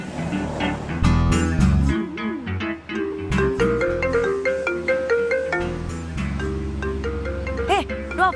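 A mobile phone ringtone plays loudly as a steady melodic tune that runs through the whole stretch, with repeating tonal notes and no talk over it.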